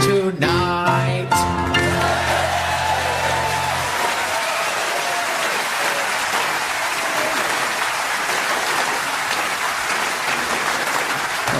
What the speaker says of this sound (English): who knew that the people of Richmond could clap along slightly out of time like that